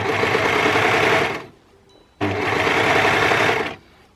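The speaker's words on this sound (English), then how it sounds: "I am kind of stretching out a little bit as I sew, just to make sure that the edges are meeting" An overlocker stitches stretch fabric in two loud, steady runs of rapid whirring, each about a second and a half long, separated by a brief near-silent pause.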